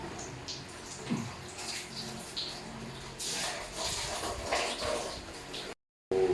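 Water runs and splashes out of a machine as its filter is changed, a steady faint wash with scattered clunks and handling noises, then a brief dropout near the end.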